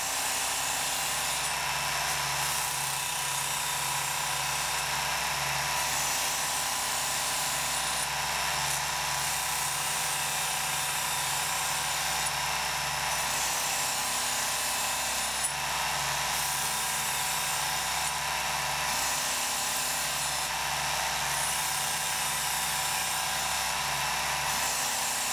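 A Work Sharp Ken Onion electric knife sharpener grinds a blade on its belt, producing a steady, close, continuous whirring rasp with slight periodic shifts in pitch and intensity, and no talking.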